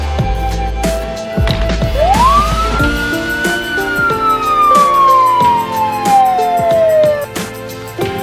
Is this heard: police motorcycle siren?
yes